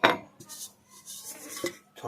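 A metal degchi cooking pot is handled while a homemade ringworm remedy is prepared with coconut pieces, giving a few short metallic clinks and knocks spread across about two seconds, close and moderately loud, with no talking.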